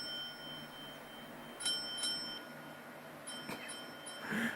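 A few faint, sparse strikes of a bell rung by an old man, with lingering ringing tones over a quiet background, no talking.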